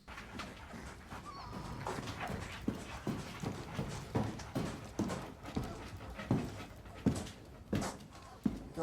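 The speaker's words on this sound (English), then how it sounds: "Oh, puppies." Puppies pant and whimper close by in a quiet scene, with soft rhythmic breathing and scuffling throughout.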